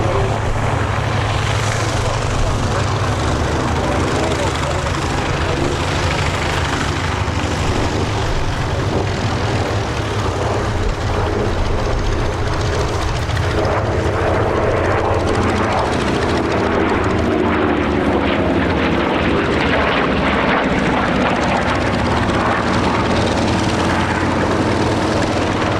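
A Corsair warbird flies at Sywell Airshow, its propeller engine drone loud and continuous throughout, with a slow pitch sweep midway as the aircraft passes and no voices.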